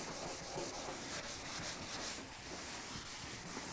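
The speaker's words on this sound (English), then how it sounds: "go over it real quick with the scuff pad" Scuff pad rubbed quickly back and forth over a rusty metal surface, a steady close scratchy rasp heard alone.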